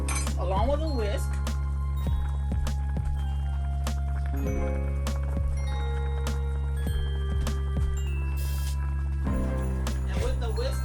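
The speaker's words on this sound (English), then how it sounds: "I'm going to whisk together the pot liquor and the flour and cornstarch that I have" A whisk beats pot liquor with flour and cornstarch in a pot, making repeated sharp metallic clinks at an uneven rhythm while a person talks throughout.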